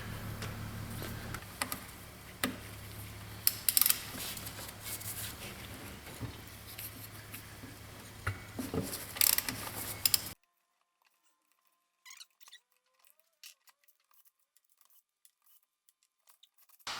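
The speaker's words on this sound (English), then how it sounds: "Now we're going to take and remove the bolts for this axle." A wrench works 15mm axle bolts on a Ford F150 8.8 rear axle, giving close, irregular metallic ticks and clicks over workshop noise, then sparse quieter clicks against near silence.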